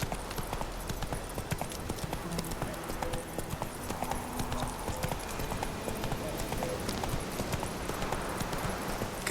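Roach the horse's hooves clip-clop steadily at a gallop in The Witcher 3, a fast, even rhythm of hoofbeats over ambient game sound, with no voices.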